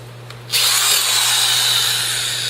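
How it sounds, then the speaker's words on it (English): A hammer drill bores a hole in concrete to set a Wedge King concrete anchor, starting abruptly after a brief quiet moment and then grinding on loud and steady, close to the listener. "Drilling a second hole,"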